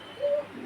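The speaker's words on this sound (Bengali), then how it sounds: "দেখেন কবুতরটা দেখেন" A pigeon offered for sale gives a single short coo, close and fairly clear against a quiet background.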